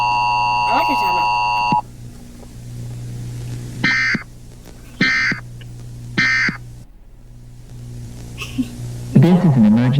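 Emergency Alert System attention tone sounds repeatedly, a loud steady dual-tone burst broken into short pulses, over a constant low hum, with a brief rise of voices near the end.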